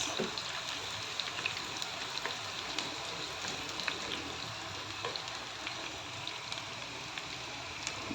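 Onion and garlic sauté gently in a pan for a pork binagoongan dish, a soft, even sizzle with scattered small pops and crackles running throughout, fairly quiet and with no talking.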